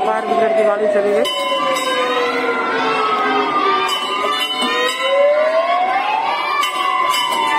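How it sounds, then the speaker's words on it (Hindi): A fire brigade truck's wailing siren passes and drives away through a busy indoor play city, its rising and falling tone loud and steady over crowd chatter and cheering. "ये देखिए फायर ब्रिगेड की गाड़ी चली गई।"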